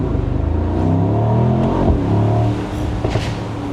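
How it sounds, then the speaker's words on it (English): A 2025 Mercedes-AMG SL 55 4MATIC+ with its big V8 pulls hard under acceleration, a loud, steady engine roar with rising tones that runs throughout and eases slightly near the end. "The big V8, yeah, I love the sound of this."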